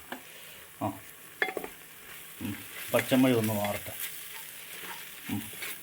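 Spices with turmeric powder sizzling in a pan for potato curry, stirred with scraping, clinking strokes that come in short bursts under a soft steady fry, with brief talk in between.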